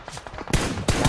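Video game gunfire, a quick burst of sharp shots followed by two louder cracks, close and loud over about a second, with no talk.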